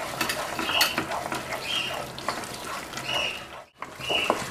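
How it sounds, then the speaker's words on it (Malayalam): A spoon stirs tomato sauce gravy in a pan while making butter paneer masala, with soft scraping strokes and a light sizzle repeating steadily, close and moderately loud, no talk. "നമുക്കൊന്ന് ഇളക്കി നന്നായിട്ട് എടുക്കാം."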